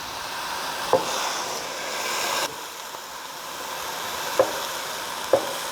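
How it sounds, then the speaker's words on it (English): Lebanese kufta sizzles gently in a pan, a soft continuous frying hiss with a few sharp taps of a utensil against the pan. "Nice little sizzling sound."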